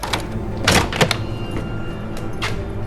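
A door opens after a knock, with a couple of dull thuds and a latch-like clack heard up close in a quiet room, no voices.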